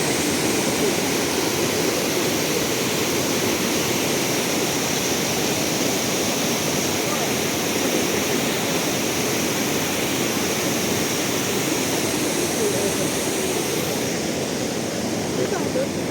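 Waterfall in Yaremche roars as a steady, loud broadband rush of falling water, continuous and unchanging throughout with no clear voices on top.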